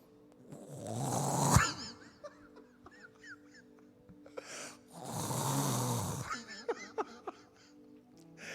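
A voice imitates people snoring at night, giving two drawn-out rasping snore sounds, each followed by quieter breathy sputters, fairly close and alone.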